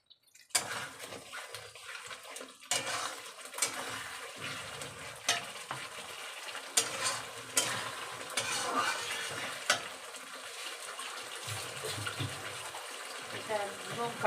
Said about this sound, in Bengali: আলুগুলো দিয়ে দিচ্ছি মশলাতে, যাতে আলুগুলো ভালো করে কষা হয়।